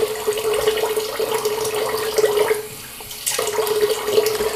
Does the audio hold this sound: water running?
yes